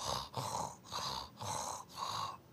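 A voice imitates simple snoring without apnea: four rhythmic, raspy inhaled snores, evenly spaced with brief pauses between, close and fairly loud.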